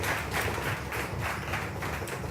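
A lottery show audience applauds a drawn number, a short burst of rhythmic, somewhat muffled clapping with a pulsing beat, heard close and loud for a couple of seconds.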